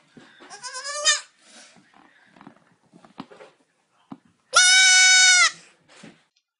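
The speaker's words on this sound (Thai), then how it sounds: "เสียงเรียกแม่ของแพะตัวน้อย" A young goat bleats in two loud, drawn-out cries, one near the start and a stronger one later, separated by quieter scattered sounds and short clicks.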